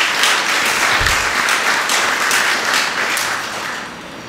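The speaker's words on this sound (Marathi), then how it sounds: "आपण त्यांच्यासाठी एकदा टाळ्या वाजवूयात" An audience at a lecture series applauds, a dense, loud, steady roar of clapping that holds for several seconds and then begins to fade toward the end.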